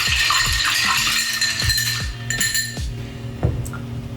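A spoon stirs a Fireball whiskey cocktail in a glass, giving close, bright clinks and rattles that repeat about twice a second with ringing tones between them.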